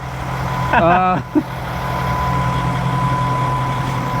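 A truck engine idles steadily with a low, constant rumble while recharging during a winch pull, briefly interrupted early on by a short burst of voice.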